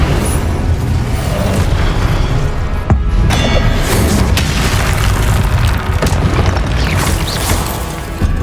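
Confringo blasting spell explosions in the Hogwarts Legacy video game: loud, dense booming blasts and crackling bursts in a busy combat mix, with one sharp crack standing out near the middle.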